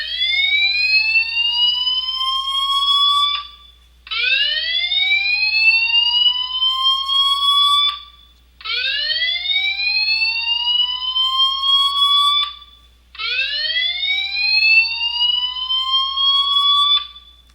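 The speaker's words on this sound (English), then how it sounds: "That alarm is going to sound something like this." A building fire alarm sounds four times in a row, each blast a loud rising whooping sweep lasting about three seconds, separated by short gaps of near silence over a steady low hum.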